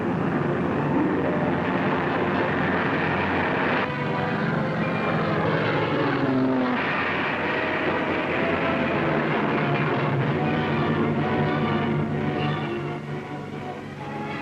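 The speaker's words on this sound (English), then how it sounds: "Warmed up and ready for battle, Air Force bombers took off to find the enemy." WWII B-17 bombers take off in a steady, loud propeller-engine drone that fills the whole stretch, with layered engines shifting in pitch as they power up and climb; no speech.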